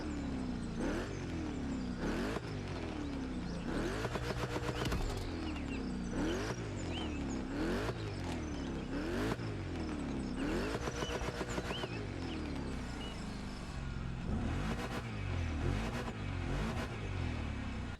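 A Ford Mustang Dark Horse V8 in Motorfest revs repeatedly, rising and falling engine pitch climbing through gears with sharp shifts, loud and close with no talking over it.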